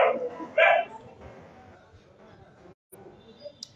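Dogs bark nearby, two loud, sharp barks near the start, followed by someone talking in French over the quieter background.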